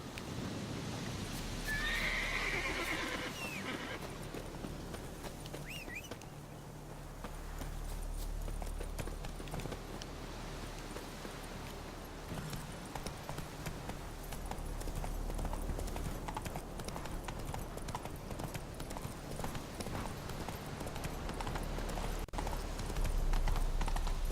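A horse whinnies near the start in The Witcher video game, then hooves clip-clop steadily throughout over a constant low background hum.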